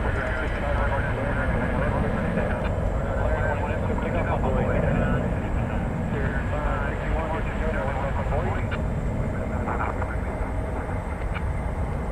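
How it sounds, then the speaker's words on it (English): An American Eagle E-Jet airliner roars steadily at DFW Airport at night, a loud continuous broadband jet rumble with people talking over it throughout. "Goes this E-Jet, American Eagle 3421."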